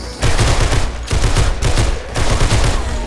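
Rapid gunfire in the zombie survival game 7 Days to Die, loud and close, firing in sustained bursts with brief pauses between them.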